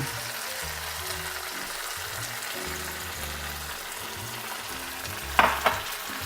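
A pot of black bean sauce for chicken simmers with a steady bubbling hiss, a couple of brief sharp splashes and clinks as cornstarch goes in.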